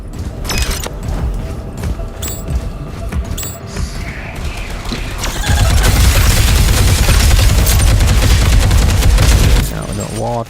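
Wall turrets in a roguelite game fire in rapid bursts of sharp gunshots, clattering loudly at first, then giving way to a dense, booming barrage that holds until near the end. A voice can be heard talking at times beneath the gunfire.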